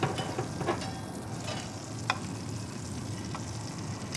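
Steak searing in a pan of garlic butter, a steady close sizzle and crackle with faint scraping and spoon-stirring ticks as the fat is basted over the meat, no voices.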